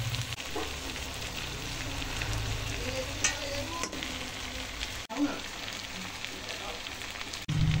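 Katla fish heads hit hot oil with frying pumpkin in a pan, producing a continuous close sizzle and crackle, with a few faint stirring scrapes mixed in.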